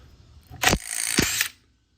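A DeWalt 20V brushless 1/2-inch cordless impact wrench spins in reverse on nuts torqued to 100 foot-pounds, giving a single short, close, whirring mechanical burst of about a second before stopping.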